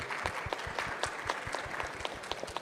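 Audience applause at a panel session on concessions and sustainability, a modest crowd clapping steadily with individual claps distinct, fairly close and unbroken throughout.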